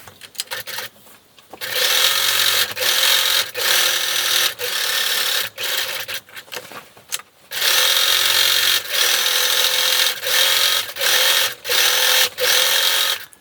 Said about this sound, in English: Now we're going to sew around all of the edges, 1/8 inch from the edge